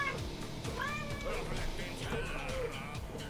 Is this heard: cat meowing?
yes